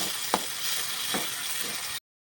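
Tomato paste fries in a pan for Kerala-style fish biryani, giving a steady, close sizzle with a couple of brief scraping stirs. No voices.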